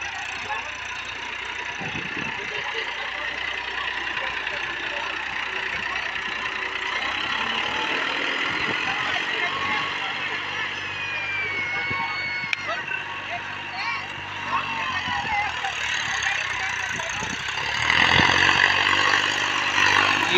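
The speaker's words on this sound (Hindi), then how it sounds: "ये देख सकते हो किसान भाइयों ट्रैक्टर चल दिया है और कल्टीवेटर पे जम के देख सकते हो।" A Massey Ferguson 7235 DI tractor, 35 HP, runs steadily while pulling a cultivator through a field, a constant mid-pitched diesel drone close by with a brief surge near the end, and someone talks over it.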